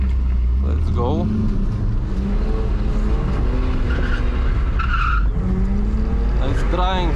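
A BMW E46 320i drifting on a wet road in rain, its engine revving hard and rising and falling in pitch alongside tire noise and water spray, steady and loud throughout, with talk over it.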